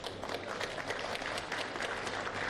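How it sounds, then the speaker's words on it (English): An audience at a BNI Noida 10-year anniversary business gathering claps together, a dense, steady spatter of many hands held at moderate volume throughout, with no talking. "please give yourself a round of applause"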